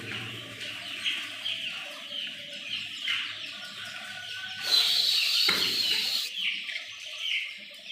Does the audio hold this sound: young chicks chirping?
yes